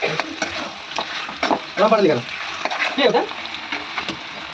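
Mutton and potato pieces are stirred and fried in a pan for kosha, a close, steady sizzle with frequent spoon scrapes, and brief voice-like chirps over it.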